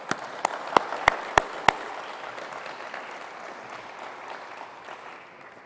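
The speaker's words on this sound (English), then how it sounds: "Please give them a round of applause." Audience applause at a session of the International Astronautical Congress in Baku: a few sharp, loud, separate claps come first, then they blend into a steady, softer crowd clapping that slowly fades.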